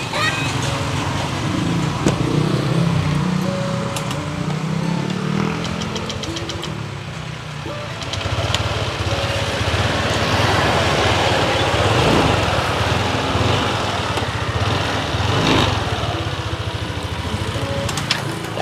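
Freshly repaired motorcycle engine running at a steady idle with an uneven, slightly knocking beat, close by and continuous, while people talk over it now and then.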